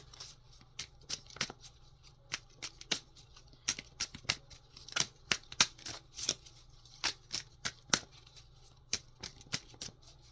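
Tarot clarifier cards shuffled and drawn: a long run of quick, crisp flicks and snaps in an irregular rhythm, fairly faint and close, over a quiet room.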